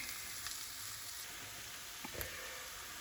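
Beef frying with spice powders in a pan, a soft, even sizzle running throughout at low volume, with a brief stirring clatter near the two-second mark.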